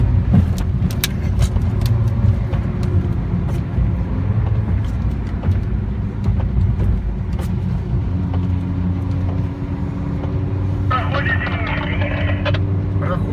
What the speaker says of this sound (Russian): Машина резко ускоряется, пытается уйти.